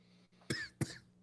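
Two sharp coughs about a third of a second apart, close and fairly loud, over a quiet room.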